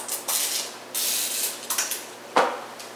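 Pam cooking spray is squirted into cake pans in several short, close hissing bursts of uneven length, separated by brief pauses and ending with a sharper clack.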